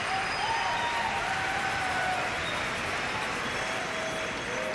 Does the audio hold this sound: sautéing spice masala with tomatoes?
no